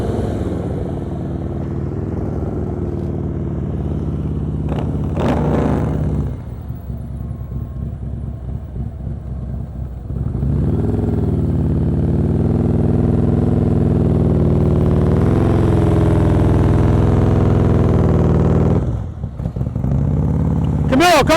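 A motorcycle engine idles and revs at low speed during slow-speed riding practice, a steady rumble that rises and dips through the clip, with a loud instructor's voice over it.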